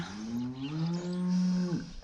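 A single long cow moo, close and clear, holding a steady pitch before dropping off at the end.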